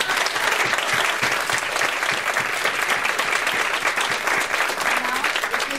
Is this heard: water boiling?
no